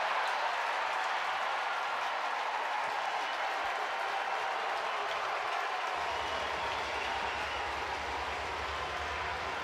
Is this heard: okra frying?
no